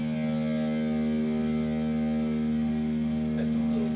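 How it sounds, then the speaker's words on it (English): Distortion effect on a music track in a home jam session, a sustained, buzzy drone with strong steady tones and gritty overtones, holding level for several seconds with a brief brighter flutter near the end. "That's a little distorted. I don't know if I want it distorted."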